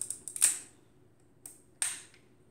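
Agfa Flexilette camera with a Prontor leaf shutter set to 1/500, cocked with a few quick close mechanical clicks and then released with a sharp snap, followed by a second crisp click, nothing else heard.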